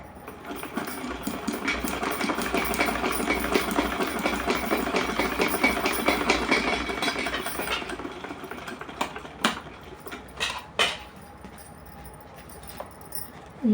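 A sewing machine runs steadily for about eight seconds, stitching together the panels of a small fancy dress for a Laddu Gopal idol, then stops and starts in short bursts before falling quiet.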